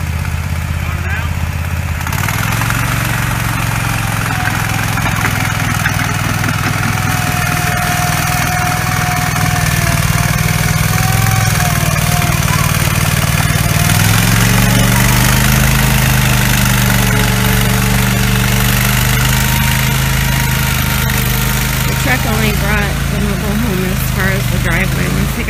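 Engines of the machinery supporting and pivoting a single-wide mobile home run loudly and continuously, their pitch rising and shifting partway through as the load is moved, with voices faintly underneath.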